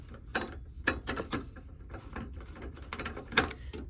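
Ratchet tightening a 10 mm bolt on the hybrid battery cover of a 2007–2011 Toyota Camry, a quiet run of quick metallic clicks in short irregular bursts, close up with no talk.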